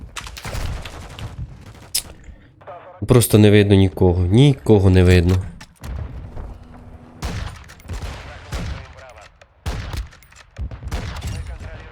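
Gunfire in the video game Call of Duty Modern Warfare II: a loud burst of rapid shots for a couple of seconds, with a voice talking over the game before and after.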